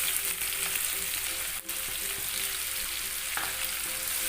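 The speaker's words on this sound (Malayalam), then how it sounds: "എന്നിട്ട് നന്നായി വഴറ്റി കൊടുക്കാം." Two medium sliced onions sauté in a pan with a steady, close hiss of frying, plus a faint stir or tap partway through and no voices.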